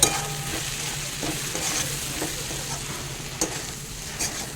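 Oats and vegetables stirred in a frying pan give a steady close sizzle, with a spoon scraping and tapping the pan at irregular moments and no voices.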